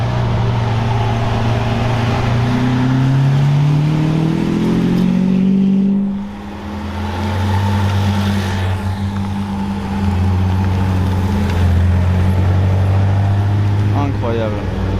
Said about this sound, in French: Regardez ça, Aventador GT3 RS 720S.